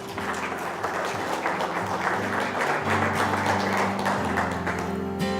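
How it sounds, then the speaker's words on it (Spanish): Church congregation applauding through the whole stretch, a dense steady patter of clapping with sustained organ or keyboard tones underneath and no break in the sound. "Denle un aplauso al Señor."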